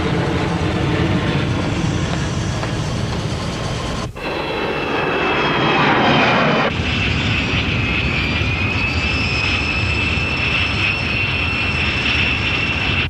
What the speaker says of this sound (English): We're trying to land an aircraft here!